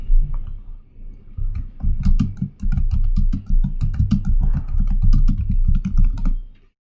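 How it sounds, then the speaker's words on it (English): Quick, uneven keystrokes on a computer keyboard as a git push command is typed at a command prompt, the clicks coming in close bursts with brief pauses between them. "So let's type that at the command prompt."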